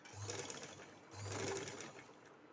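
A sewing machine runs in two short bursts, stitching a neck strip onto the rounded back neckline of a flared princess-cut kurti, close and steady with a faint voice underneath.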